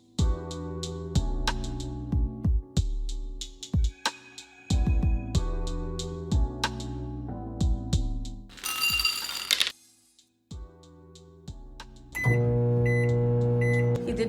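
A microwave oven softening butter for chocolate chip brownie cookies beeps repeatedly through button presses, then hums steadily once it starts running.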